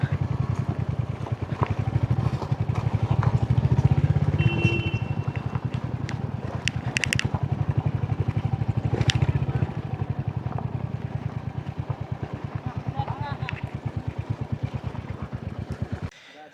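A motorcycle rides along hill roads near Ajodhya Pahar in Purulia, its engine a loud, steady close drone with pulsing rumble throughout, fading abruptly at the very end.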